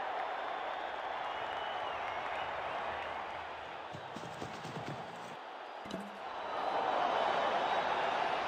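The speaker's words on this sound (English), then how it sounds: "The crowd is anxious." A stadium crowd in the cricket video game Wicket Cricket WCC3 gives a steady murmur of cheering and applause with brief clattering effects. The noise swells louder near the end.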